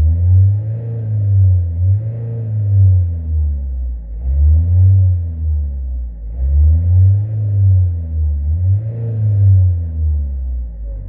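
A car engine revs hard with the accelerator pedal floored, climbing in repeated loud surges roughly every two seconds before falling back, close and alone with no talk.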